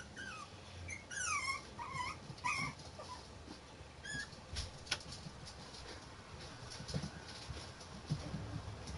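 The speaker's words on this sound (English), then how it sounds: "The puppy started whining." A puppy in The Sims 4 whines and whimpers in a few high, wavering cries early on, then quieter game ambience with faint clicks and soft thumps, no talking.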